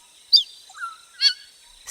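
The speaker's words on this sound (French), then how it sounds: "Ces jacasseurs sont des perroquets gris du Gabon." African grey parrots call from high in the forest canopy, a few clear, sharp whistles and honking squawks spaced apart over quiet surroundings.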